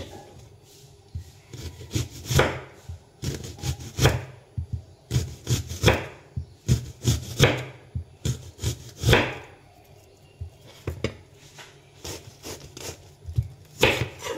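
A very sharp knife slices chicken thinly into rounds for chicken steak, each cut a crisp knock on a cutting board, repeated in quick, uneven runs with short pauses, close up and alone.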